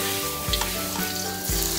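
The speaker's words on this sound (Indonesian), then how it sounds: "Terus masukkan bawang merah dan bawang putihnya. Kita goreng dulu menggunakan api sedang" Shallots and garlic sizzle steadily in hot oil in a wok over medium heat, a continuous close frying crackle with a couple of louder stirring surges and no talk.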